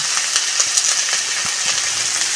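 Masala for mutton ball curry sizzles steadily in a pan with salt, a dense, loud frying hiss broken by small crackles and occasional taps of stirring, with no talking.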